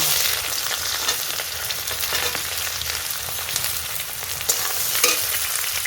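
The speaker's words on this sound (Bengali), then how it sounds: "তেলটা আমি গরম হয়ে গেছে, দিয়ে দেবো পেঁয়াজ।" Onions fry in hot mustard oil in a wok, giving a loud, continuous sizzle close up with occasional stirring scrapes and no talking.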